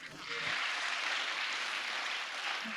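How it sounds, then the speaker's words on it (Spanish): A church congregation applauds their pastor, a dense, steady wash of clapping that holds loud and even for a few seconds. "Solo dale un aplauso"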